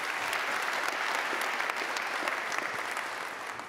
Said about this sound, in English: round of applause to them because they are fantastic